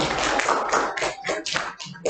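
A classroom group of students claps for a presenting group, a brief scattered burst of hand claps in uneven rhythm that thins toward the end, close and fairly loud.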